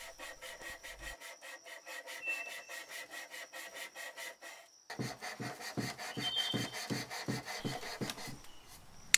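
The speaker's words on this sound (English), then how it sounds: "So I bought a flexible kind of sandpaper" Flexible sandpaper worked by hand over turned wooden furniture legs during a paint-stripping restoration, giving steady rhythmic rasping strokes, lighter at first, then a brief pause and a run of louder, closer back-and-forth rubs.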